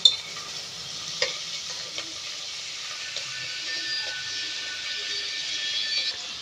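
Whole spices, shahjeera, cinnamon bark and green chilies, fry with onions in a pan for Telangana mutton curry, making a continuous close sizzle broken by a few sharp stirring clicks.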